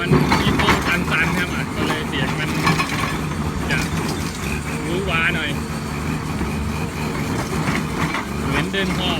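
An engine idles roughly with an uneven, sputtering rhythm and mechanical rattling, loud and close throughout.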